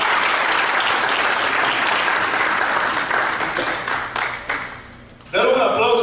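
A crowd applauds loudly and steadily, the clapping thinning and fading out before a voice starts speaking.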